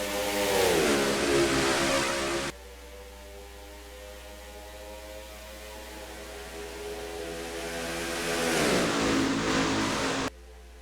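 Stock cars race at Daytona in a racing video game as a 21-car field takes the green for a Can-Am Duel. A faint engine drone climbs in pitch at the start, settles into a steady hum, then rises again near the end.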